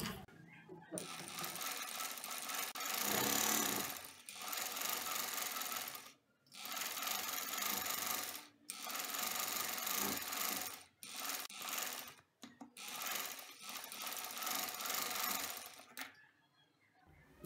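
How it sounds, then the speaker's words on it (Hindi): A sewing machine stitching lace onto a folded baby top, running in bursts of steady whirring separated by brief pauses, close and fairly loud. "इस तरह इसे फोल्ड करेंगे और सिलाई लगाएंगे"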